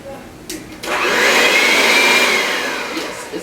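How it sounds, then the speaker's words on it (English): An electric hand mixer whirs on in a kitchen while whipping strawberry shortcake ingredients, a brief click and short burst before a steady loud motor whine with a rising and falling pitch, then winding down. "a hand mixer is always easier. So let me make sure that this is on."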